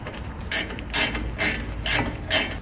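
A ratchet tightens the 18 mm bolts on a BMW F30 front brake caliper, making four or five close, loud bursts of rapid pawl clicking with short pauses between strokes and no speech.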